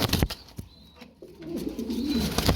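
Domestic pigeons kept in pairs for sale give a close, low cooing run while sharp bursts of wing flapping break in at the start and end, with no voices.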